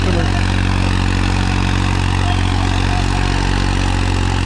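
Farmtrac 60 tractor, bored out and fitted with a turbo, idles loudly and close by with a steady, unbroken low diesel rumble and no variation in pace.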